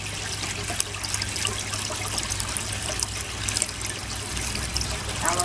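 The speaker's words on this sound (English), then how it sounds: "The siphon's starting to slow down a bit now." Water drains and gurgles continuously through a bell siphon in a backyard aquaponics barrel system, a steady rushing trickle with small splashy bubbles throughout, slowing down.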